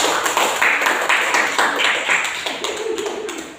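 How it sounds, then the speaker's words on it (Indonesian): Schoolchildren in a classroom clap together in a quick, lively round that carries on steadily close by, thinning slightly toward the end. "silakan kasih tepuk tangan temannya."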